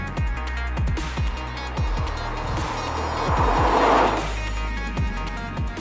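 A Mercedes-AMG CLA 45 S accelerates hard through its gears, the engine note climbing repeatedly in rising sweeps broken by quick shift cuts, loud and close, with a burst of road or wind rush midway.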